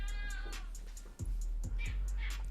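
A house cat meows a few times in short drawn-out calls, close and clear, over a low steady hum.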